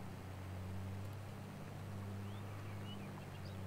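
A John Deere tractor in Farming Simulator 22 pulls a Kverneland subsoiler, its engine a steady low drone with a constant hum, running evenly and unchanging throughout.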